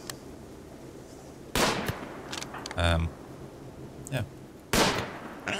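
Gunfire in the colony game RimWorld, with several sharp separate shots and a short rapid burst spread across the moment, loud and close, while someone speaks briefly between them.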